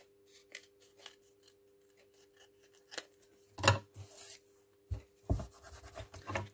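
Close scissors cut a piece off paper while assembling a handmade journal with CD and coin envelopes: scattered light snips and paper rustles build to several louder, sharper cuts near the end, with no talking.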